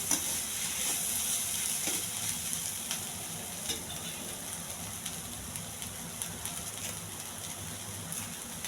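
Bitter gourd (kakarakaya) fry cooking on a low flame in a pan gives a steady, even sizzle like light rain, continuous and close throughout with no talk.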